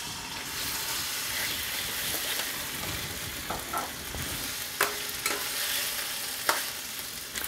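Pork fries in oil in a pan with a continuous close sizzle and hiss, broken by a few sharp crackles and spatula clicks toward the end.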